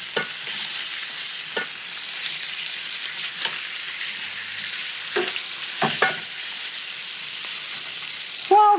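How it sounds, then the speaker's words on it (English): Lamb chops sear in a pan with a steady, bright sizzle, broken now and then by short clinks and scrapes of a utensil. "the lamb is kind of cooking away"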